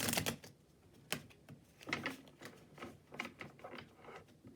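Tarot cards are shuffled by hand in a quiet room, a soft series of riffling, papery bursts coming in uneven waves close to the listener, with no talking.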